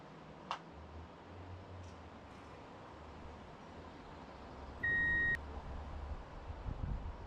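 A multimeter set to continuity gives one short electronic beep lasting about half a second, over a quiet background of low hum and faint ticks, with no speech.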